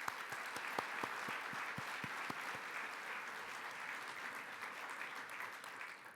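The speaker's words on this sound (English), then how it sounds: "Please join me in applauding their efforts." Audience at an annual meeting and luncheon applauds the volunteer staff, with sustained, even clapping, a few sharp individual claps standing out early, then fading slightly at the close.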